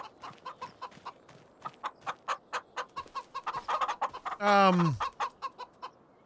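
Chickens cluck in a steady, evenly spaced series at a chicken farm in Farming Simulator 25, close and clear, with a louder drawn-out squawk near the end before the clucking resumes.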